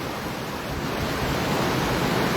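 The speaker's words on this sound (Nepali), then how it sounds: "पानी व्यापक बढेको छ। निकै भेल चाहिँ आएको छ। बाढी आएको छ" A flooded river near Mugling surges in a steady, dense roar, constant and loud throughout with no talking.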